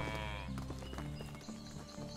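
Sheep and lambs bleating in the farming game Medieval Dynasty, several overlapping high wavering calls repeating steadily over a busy background of game ambience.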